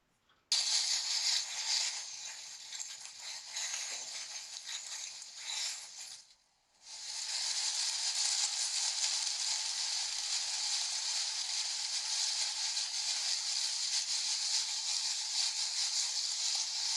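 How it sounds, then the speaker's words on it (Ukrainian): Steady, dense rustling and crackling of dry autumn leaves being stirred, continuous and fairly close, with a brief pause partway through. "це шелест осіннього листя"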